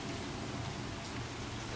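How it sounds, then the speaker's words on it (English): Rain falls outdoors as an even, close hiss of drops hitting surfaces. It stays steady and unbroken for the whole short stretch, with no voices heard. "Yep, it's raining, huh?"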